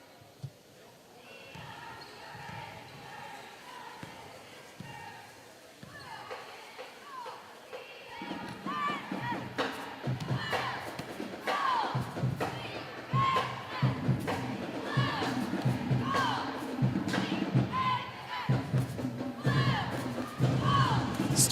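Crowd noise in a gym during a timeout at a varsity high school basketball game: a quiet murmur that swells into louder, busy chatter and scattered sharp sounds like bouncing balls or shoe thumps.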